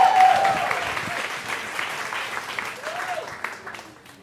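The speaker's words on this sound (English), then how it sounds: "So give an extra special round of applause for Laura Robbins." An audience claps warmly for speaker Laura Robbins, a dense burst of applause that gradually thins and fades over a few seconds, with a faint voice briefly audible near the start.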